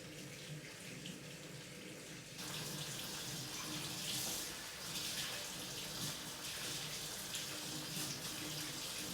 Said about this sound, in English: run your tap.